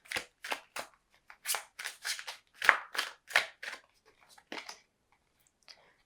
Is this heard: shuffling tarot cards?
yes